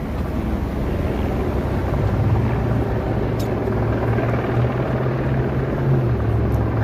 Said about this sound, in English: I know the helicopter's just chilling up there.